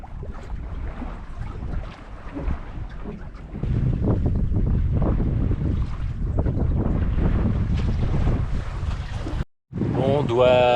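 Steady wind roars and buffets the microphone aboard a sailboat, with water rushing beneath, briefly cutting out near the end.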